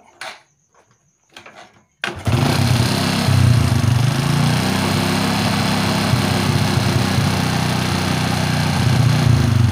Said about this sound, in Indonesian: kita coba starter apakah menyala dengan normal